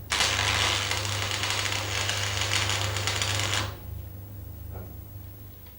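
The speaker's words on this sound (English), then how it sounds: "Strike the arc at the end and move inwards to make a tack weld about 10 millimeters long." Arc welder striking a short tack weld about 10 millimetres long in a corner joint, a loud, close, steady crackling buzz lasting a few seconds before cutting off into quiet room hum.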